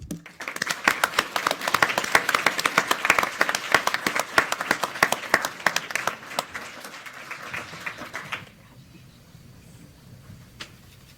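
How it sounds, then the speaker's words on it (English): Audience applause at a law school evidence moot court competition awards announcement: sustained dense clapping from a crowd, loud and steady for about eight seconds before dropping off to quiet room tone. "So, round of applause."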